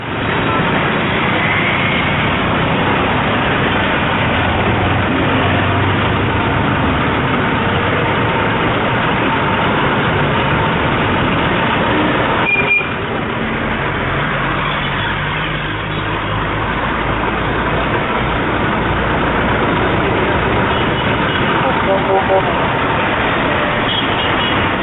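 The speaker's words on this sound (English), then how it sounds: "we still find majority of vehicles idly on for the whole of 60 seconds even when the signal says red." Several vehicle engines idle at a red traffic signal on a road, a steady low rumble of traffic running continuously throughout with no one speaking.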